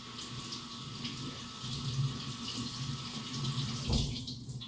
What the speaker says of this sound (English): I'm just gonna wash them and cut the bottom stems.